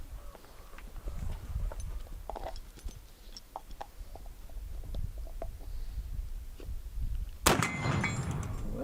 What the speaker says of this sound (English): I'm just going to go ahead and shoot at that orange plate out there and see how this goes.